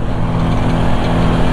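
Honda CB 450 motorcycle engine after a carburettor tune-up, running close and loud with a steady, even throb that holds at a constant level throughout, no voices.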